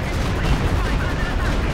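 Walking Stuka rocket artillery barrage in Company of Heroes 2, a dense, continuous rumble of explosions and fire with heavy low-end weight, steady and loud throughout, with talk underneath.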